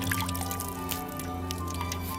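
An Arcus 98DAC pistol sits submerged in water as bubbles rise from it, making close, continuous wet gurgling, dripping and squishing sounds.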